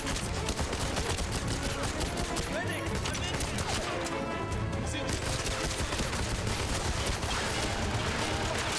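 Rapid bursts of automatic gunfire in the James Bond shooter 007 Legends rattle almost nonstop, a brief lull in the middle before the dense firing resumes, loud and close throughout.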